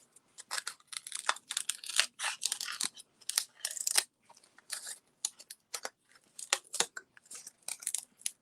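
Scissors snip repeatedly as shapes are cut for hand-printed animal scarves, a close, irregular series of crisp cuts with paper rustling between them.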